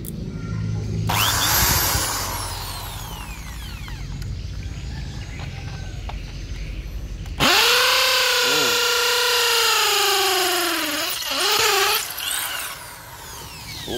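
A RYU electric impact drill whirs loudly as it bores into material, running in long sustained bursts with rising and falling motor pitch as the load changes, close and dominant.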